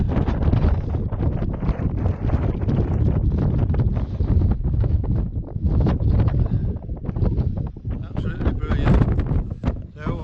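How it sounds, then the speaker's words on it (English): Strong wind buffets the microphone on the summit of Moel Siabod, a loud, continuous roar with gusty surges and rumbling low-end turbulence throughout, no voice present. "as soon as you stand up, the wind hits you"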